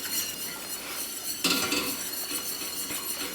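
A spoon stirs a butter, flour and nutmeg sauce in a pot, scraping and clinking against the metal in a steady, close rhythm, with one louder knock partway through.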